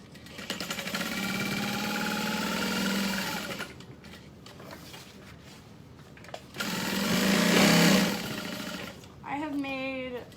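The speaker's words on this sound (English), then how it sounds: "I'm going to go sew down from the bottom all the way across the top and then down to the bottom again" A sewing machine stitches a fabric bag in two long, steady, whirring runs with a pause between them, close and fairly loud, and a voice is heard briefly at the end.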